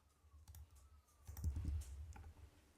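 Fingers tap out a client secret on a computer keyboard, a short, quiet run of close key clicks that clusters into a brief flurry in the middle.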